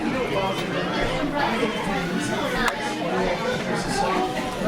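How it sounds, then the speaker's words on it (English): A growing crowd chatters on a front porch, with overlapping voices and murmured conversation close by, steady and moderately loud. "here's the crowd getting bigger"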